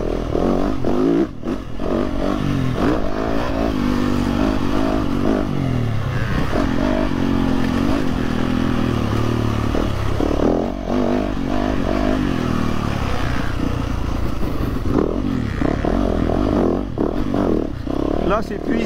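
A motorcycle engine drones and accelerates steadily on a circuit at night in Spain, loud and close throughout with wind rush and rattle. A person talks over the engine noise.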